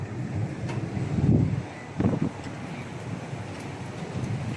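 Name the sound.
wind blowing on an open condo balcony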